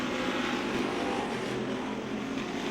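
Race cars circling a short speedway track at night, with a continuous dense engine roar from several cars filling the air, steady and loud, with no voice over it.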